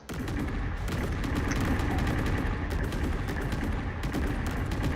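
Heavy cannon fire from a pirate ship in a naval battle in Caribbean Legend, a dense run of booming shots and rumbling blasts that carries loudly and steadily through the whole stretch without a break.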